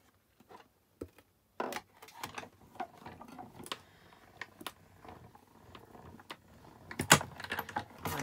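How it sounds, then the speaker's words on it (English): A Stampin' Up die cutting machine cuts a wreath shape from silver card, giving irregular close mechanical clicks, cranks and grinding taps that build to a busier burst near the end, with no talk. "I'm going to die cut the wreath in silver first of all"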